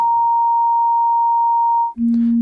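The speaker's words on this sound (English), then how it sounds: "This is the movement of air molecules that happens when a sine wave plays." A pure, steady sine tone held for about two seconds, then dropping abruptly to a lower, louder tone.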